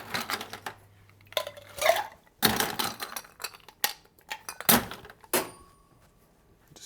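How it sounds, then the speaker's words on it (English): Ice cubes clink and rattle into a glass for a Jim Beam Black Label cocktail, several separate close chinks and knocks with short pauses between them, no talking. "Now we just need to add some ice."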